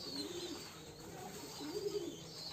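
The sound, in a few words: pigeons cooing while bathing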